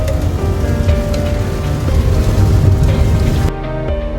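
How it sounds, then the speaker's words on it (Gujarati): Heavy rain pours down at night at an ashram, a dense, steady hiss of drops hitting surfaces that stays loud throughout, easing slightly near the end. "મિત્રો આપ જોઈ શકો છો કે કેટલો વરસાદ પડી રહ્યો છે"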